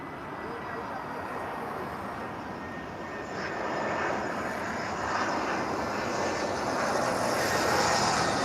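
A TAP Air Portugal airliner descends to land at Lisbon, its engine roar a broad steady rush that swells louder over the clip, with someone talking over it.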